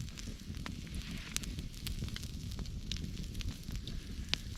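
Oak-ember fire on a mountaintop grill: soft, close crackling with scattered sharp pops over a low, rushing background of breeze, fairly quiet, and no voices.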